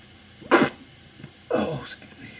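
Two sneezes from a person, a sharp burst followed a second later by a longer, softer one, close and fairly loud with no talk between them, heard during a Skyrim game session.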